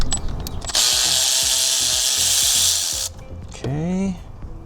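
A power tool buzzes steadily for over two seconds while removing tight bolts from a car chargepipe on a Genesis G70, then stops; a short ratcheting whir follows and a voice speaks briefly near the end.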